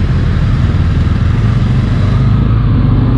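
A Honda Hornet 1000cc motorcycle on a test ride at a Honda safety driving center gives off a loud, steady engine roar that holds evenly throughout, with no pauses or speech.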